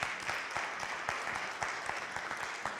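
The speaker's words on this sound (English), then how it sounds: "If you would give our PTO a round of applause" Applause from an audience at an annual congregational meeting, a brief burst of many hands clapping at moderate volume, dense and even with no talk over it.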